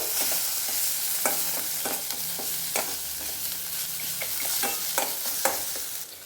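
Spices and tamarind pulp are stirred together in a pan for uggani, a puffed-rice breakfast, with a spoon scraping repeatedly in an uneven rhythm over a steady sizzle, close and without speech.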